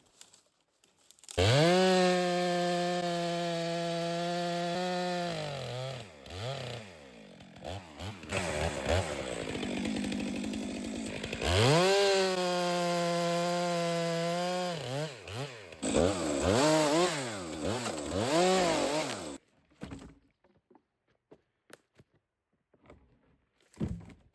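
A chainsaw cuts through a fallen tree branch lying across a road, engine revving loud and steady in two long bursts with idling and sputtering between, then falling silent near the end.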